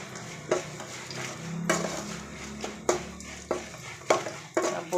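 Ground mint paste fries in a pan for pudina rice, with soft sizzling under repeated sharp scrapes and clanks of a spoon stirring against the pan at irregular intervals.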